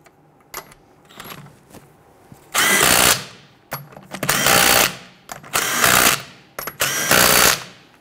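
An impact wrench snugs down lug nuts on the rear wheel of a 2006-2012 Toyota RAV4, firing four loud, close bursts of rattling hammering, each lasting about a second, separated by lighter clicks and handling noises.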